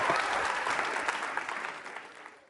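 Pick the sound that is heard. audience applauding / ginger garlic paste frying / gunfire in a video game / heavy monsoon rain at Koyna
audience applauding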